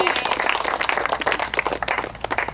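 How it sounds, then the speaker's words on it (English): An audience bursts into applause, dense, loud clapping from a crowd that carries steadily throughout with a voice faintly underneath. "Could you please give her a applause?"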